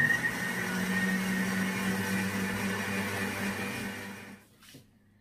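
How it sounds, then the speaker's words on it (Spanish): A kitchen blender whirs steadily as it purées oats with water into a creamy mix for milk-free hot chocolate. The motor holds a constant drone for about four seconds, then winds down and stops. "lo vamos a licuar hasta que esté bien cremoso"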